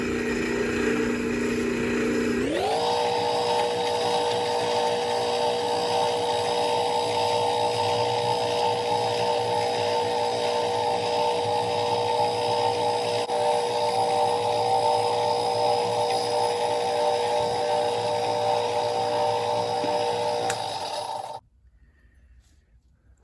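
A drill press spinning steadily while engine turning a swirled finish into aluminum, a loud continuous motor whine with a grinding hum that starts abruptly and runs unbroken for about twenty seconds before cutting off.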